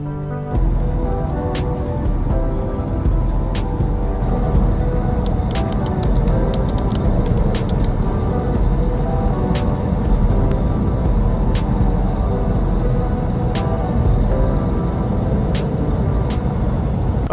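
A truck rolls down the road with a steady, loud low rumble of engine and tires heard from the cab, while sharp rattles and ticks repeat irregularly over the drone and no one talks.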